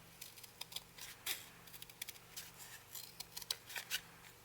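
A large pair of scissors cutting paper to make envelope inserts for a ring-bound journal, producing a series of close, crisp snips and slicing strokes in an irregular rhythm, with no one talking.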